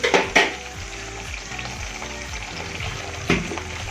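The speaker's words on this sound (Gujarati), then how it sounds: "થોડી વાર હલાવીશું." Stuffed eggplant with Kashmiri chili frying in a pan, a steady low sizzle broken by a few sharp scraping stirs at the start and one near the end, close up with no talking.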